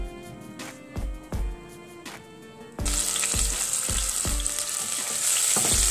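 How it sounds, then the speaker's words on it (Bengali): Chopped onion and garlic hit hot oil for pasta, after a few sharp knocks and clanks of the pan, bursting into a loud, steady, close sizzle that continues to the end. "তারপর তেল গরম হওয়ার পর আমার পেঁয়াজ কুচি এবং রসুন কুচি দিয়ে দিয়েছি।"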